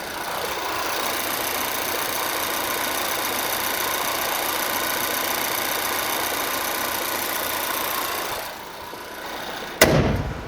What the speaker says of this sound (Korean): 엔진음 바로 들려드리겠습니다.